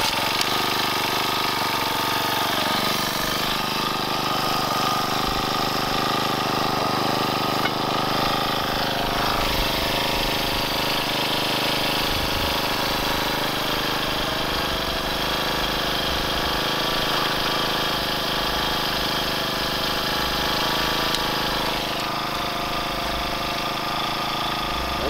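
Small gas engine of a Rhino GPD-40 post driver running steadily, a constant mid-pitched buzzing drone with slight fluctuations, at moderate level with no talk over it.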